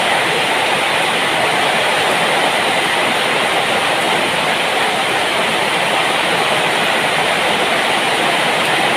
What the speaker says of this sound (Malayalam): ഭയങ്കര മഴ മക്കളെ.